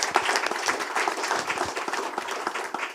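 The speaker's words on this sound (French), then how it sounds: "Et je pense qu'on peut donner quelques applaudissements." Audience applause fills a room at a literary evening with two translators, a dense, steady wash of many hands clapping close by for the full stretch without letup.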